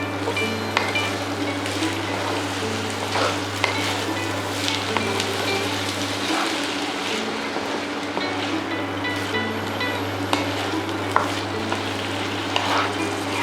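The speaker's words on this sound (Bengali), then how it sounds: "নুন দিয়ে ভালোভাবে মিশিয়ে দিচ্ছি।" Bottle gourd pieces being stirred with salt in a pan on the stove, soft continuous sizzling with scattered scraping and clinking strokes over a low steady hum, no voices.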